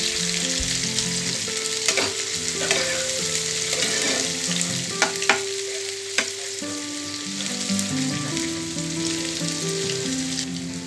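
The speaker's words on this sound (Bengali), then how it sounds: "একটু ভাজা ভাজা হোক" Ginger garlic paste fries in hot oil with a constant crackling sizzle, punctuated by several sharp clinks and scrapes of a spoon stirring the pan, no voices.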